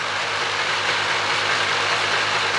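A rebuilt gasoline engine, fed straight gas and still smoking from the tailpipe, idles steadily and evenly with a low rumble for the whole stretch, no voices.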